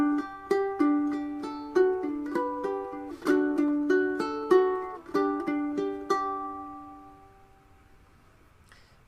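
Ukulele fingerstyle melody from Ode to Joy, bright plucked notes in a steady rhythm with chord tones ringing under the tune, played alone and close, the last note left to fade out.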